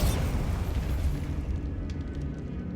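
A Bombarda explosion spell in Hogwarts Legacy, a loud deep boom with a rumbling blast that fades over a couple of seconds.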